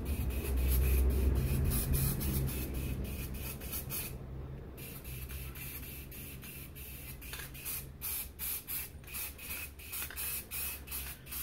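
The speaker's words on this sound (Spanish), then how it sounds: "lo voy a pasar con aerosol entonces acá" Aerosol spray paint hisses in repeated short bursts over a stencil laid flat for a colour exercise, close and fairly loud, with a longer steady spray at the start, a brief pause, then a run of rhythmic pulses.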